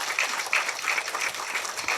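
A crowd at a Tamil movie press meet claps steadily in a dense, even burst of applause with no other sound over it.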